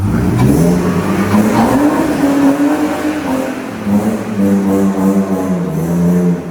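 A car reverses slowly nearby, its engine droning loud and steady with a rising and falling tone as it moves back.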